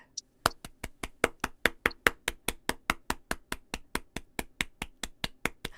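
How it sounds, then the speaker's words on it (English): Sharp hand claps repeat in a steady, even rhythm, roughly four per second, about two dozen in a row, close and crisp with no voices over them. "Should we clap it in?"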